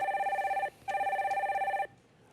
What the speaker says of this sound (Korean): 전화 연결해 주세요.